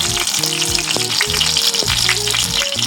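Chicken pieces fry in a pan with spices, giving a dense, steady sizzle with scattered spatters and some stirring or scraping clatter close by.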